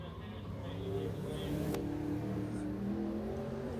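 A black number 92 Pure Street stock car races past on the final lap of a feature at Clarksville, engine roaring steadily from a moderate distance while an announcer talks over it.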